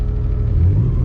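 A car with a Megasquirt-tuned engine revs at a steady, loud low rumble, with a slight rise in pitch partway through and no talk over it.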